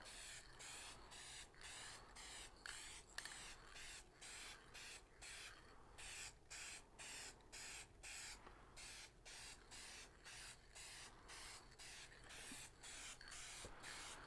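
Spray paint can hissing in a garage, a loud, close, breathy spray broken into rapid regular pulses as the nozzle spits, repeating steadily with no talk over it.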